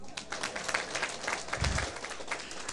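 An audience at a lecture claps in a sustained burst of applause, the dense patter of many hands moderately loud and even, with a thump partway through and no speech.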